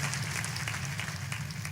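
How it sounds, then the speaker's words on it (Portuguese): Church congregation clapping during a Portuguese-language sermon, a steady, dense wash of applause filling the whole moment at moderate volume with no voices over it. "glorifique ao Senhor com palmas."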